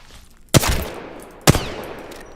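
Two loud, close shots from a light-ammo gun in the battle-royale game Apex Legends, about a second apart, each a sharp crack followed by a ringing tail, with no voices.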